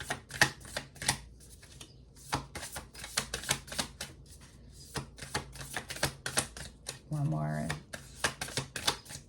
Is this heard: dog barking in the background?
no